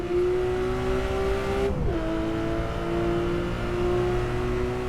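Singer Porsche engine in the Assetto Corsa racing game revving hard toward 8,000 RPM, a loud continuous high-pitched drone that dips briefly on a gear change and climbs again.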